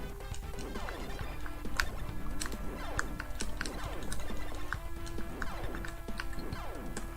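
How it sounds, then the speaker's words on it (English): Game controller buttons clack in quick, irregular bursts of sharp clicks while a retro game plays, with its busy electronic music and sound effects running steadily underneath. "can hear the controller clacking,"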